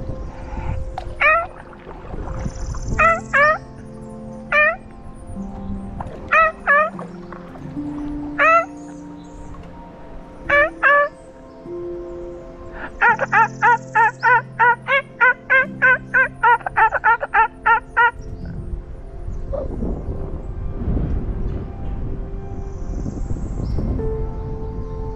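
A person's voice imitates an ivory-billed woodpecker call, repeated nasal toots in irregular bursts and then a quick rhythmic series, heard fairly close over low background noise.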